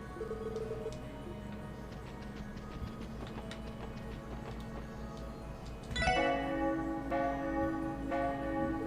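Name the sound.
bell ringing in video game Trails to Azure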